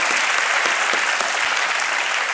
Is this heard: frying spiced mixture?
no